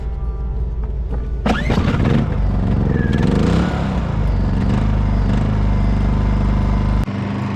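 An old Honda portable generator on a sailing catamaran is pull-started, with clattering cord pulls giving way to the engine catching and running at a steady loud hum until it cuts off near the end.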